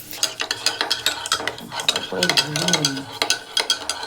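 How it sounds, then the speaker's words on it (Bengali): Fish fries in a pan of hot oil while a utensil stirs and scrapes it, making repeated close metallic clacks over a sizzling hiss, with a faint voice briefly in the background. "সেই জন্য মাছটা ভেজে দিচ্ছি"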